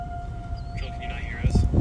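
Tornado sirens sound from Jackson Center during a March supercell storm as a faint, distant steady wail beneath wind noise, with people talking close by.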